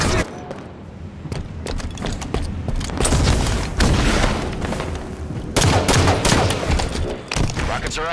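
Rapid gunfire in a Halo 5 ranked slayer match, with dense bursts of shots cracking one after another and sharp weapon blasts over several seconds. Loud, busy and continuous, with brief lulls between volleys.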